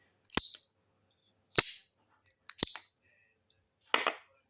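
A Colibri Firebird pump-action lighter gives four sharp, separate clicks spaced about a second apart, each a crisp snap with a brief bright tail, close and fairly quiet with silence between.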